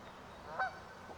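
A single short honk from a greylag goose, faint and somewhat distant, standing out briefly against a quiet outdoor background.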